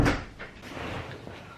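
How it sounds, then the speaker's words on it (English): A room door is pushed shut with a brief thump at the start, followed by a soft rustle and faint settling noise at low level. "Let me close the door."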